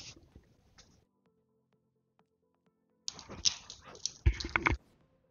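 A pet dog that wants to play whimpers and yips in short bursts, close by, with quiet game sounds before and a louder cluster of whines toward the end.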